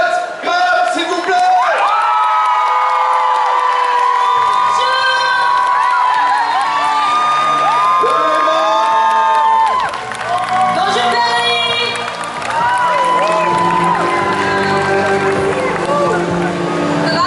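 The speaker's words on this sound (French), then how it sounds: "un tonnerre d'applaudissements" A fan-festival crowd in Paris shrieks, whoops and cheers loudly to welcome actress Kat Graham on stage. The screaming is sustained and intense, with a brief dip in the middle.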